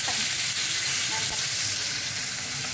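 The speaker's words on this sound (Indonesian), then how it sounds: "goreng daging sapi" Sliced beef for sate fries in a pan with a loud, continuous sizzle and hiss that lasts the whole time, close up and with no speech.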